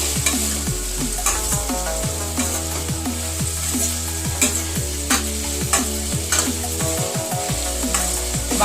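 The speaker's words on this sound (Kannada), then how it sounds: "ಬೀನ್ಸು ಕೂಡ ಸ್ವಲ್ಪ ಫ್ರೈ ಮಾಡ್ಕೋಬೇಕು" Beans frying in a pan for Bombay sagu, a steady close sizzle layered with a bright musical tone and repeated scrapes and clinks of stirring, with no talk.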